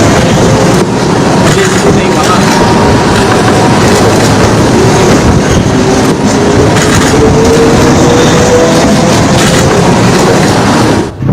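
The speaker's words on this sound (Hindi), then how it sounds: "ट्रेन आप देख रहे हैं उसी पुल से ट्रेन गुजर रही" A train crosses a long illuminated bridge at night, its loud, continuous rumble and rhythmic clickety-clack of wheels on rails filling the scene from start to finish.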